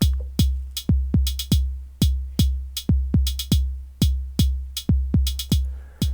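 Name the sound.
drum machine kick drum sequence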